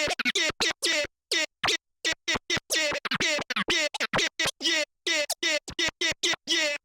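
Crab scratch on a turntable worked with a crossfader: a rapid run of short, sharp chopped bursts in quick clusters, loud and close, with no talking.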